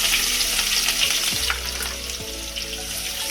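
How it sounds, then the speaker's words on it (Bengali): Onion and capsicum go into hot oil left from frying crispy chicken, making a loud, close, continuous sizzle broken by a few stirring knocks, with no speech. "ভাজার তেলে আমি এখন পেঁয়াজ আর ক্যাপসিকাম দিয়ে দেবো।"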